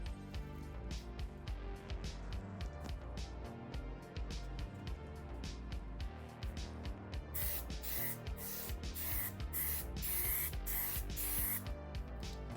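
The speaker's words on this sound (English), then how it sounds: "it was basically time to just paint it with primer and then spray on the Rhino" Aerosol can of Raptor bed liner with built-in 2K clear sprayed onto a Toyota Tacoma bumper: steady hissing spray bursts fill the second half, close and fairly loud over background music.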